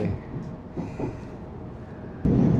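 A train in Korea rumbles steadily along an elevated track with a low, continuous roar that swells louder near the end.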